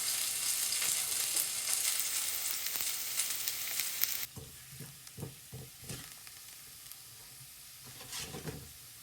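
Garlic frying in a pan for gajar ki sabzi, a loud, steady sizzle for about four seconds that drops off to quieter crackle with a few scattered stirring clicks and spatters.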